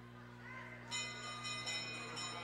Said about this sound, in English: There's the bell for 1 to go.